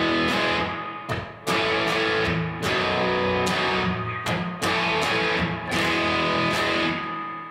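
Distorted electric guitar rings out the chords of a classic rock song, with loud sustained chords struck about every second and left to ring between hits, no voice present.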